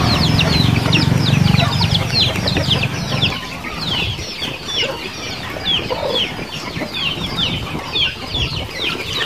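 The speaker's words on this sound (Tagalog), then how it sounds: "yan yung mga manok na native at mga pato" Native chickens and ducks cluck and call steadily from a farm pen, many birds overlapping in a busy chorus with a low rumble in the first few seconds, then lighter scattered clucks and wing flaps.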